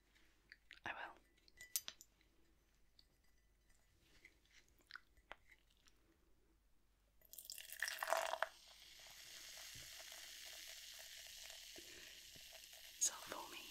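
A quiet start with a few small clicks, then a sudden rush of fizzing from a carbonated drink in a glass that settles into a steady, close, foamy, raspy hiss.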